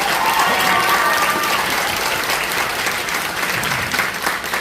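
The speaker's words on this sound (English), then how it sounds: "So give everybody Mr. Neal a round of applause." Audience applause at a community and middle school band concert, thick continuous clapping from a large crowd filling the hall, loud and steady, fading slightly toward the end with faint voices mixed in.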